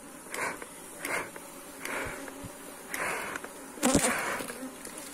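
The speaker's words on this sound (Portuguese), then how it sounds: "Esse outro enxame aqui, ó, ele já tá com uma melgueira." Honeybees buzz around a hive box fitted with a honey super, the insect drone swelling and fading in repeated waves at close range, with no voices.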